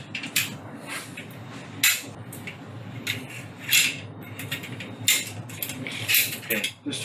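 Benelli MR1 ARGO SAR rifle being reassembled, its bolt fitted back in place: scattered metallic clicks, scrapes and rubbing of parts handled up close, in irregular bursts with quiet pauses.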